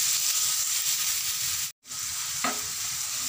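Finely chopped onions frying with cumin seeds in oil in a pan, a steady broadband sizzle that runs continuously with one brief break, close and moderately loud with no voices.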